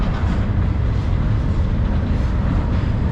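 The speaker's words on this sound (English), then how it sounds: "to film you some CSX trains here in Springfield," A CSX train rolls across an old steel bridge in Springfield, Massachusetts, producing a heavy, continuous low rumble that stays loud and close throughout, with no voices.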